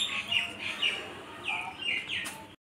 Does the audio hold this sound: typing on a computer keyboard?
no